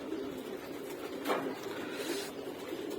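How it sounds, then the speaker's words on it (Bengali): A pair of brown Australian doves kept as pets give soft, low cooing, faint and steady against a quiet background hum, with one slightly louder swell partway through. "বাদামি কালার অস্ট্রেলিয়ান গুগু"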